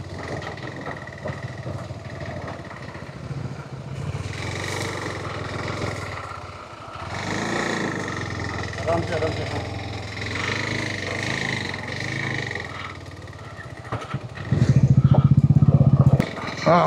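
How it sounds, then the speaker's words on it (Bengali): A motorcycle engine labours up a rough, broken trekking route on a mountain trail, running at a steady mid-pitched drone that rises and revs harder near the end. There is faint clatter, and a voice may be heard briefly. "ট্রেকিং রুট দিয়ে বাইক নিয়ে উঠছি, রাস্তা তো খারাপ হবেই।"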